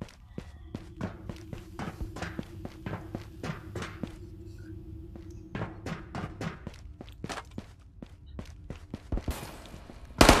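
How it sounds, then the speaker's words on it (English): In the VR game Ghosts of Tabor, a run of distinct footsteps thuds at an irregular walking pace, fairly close and moderately loud. A few heavier thumps mix in, and there is no clear talk. "I hear somebody's little cheeky footsteps"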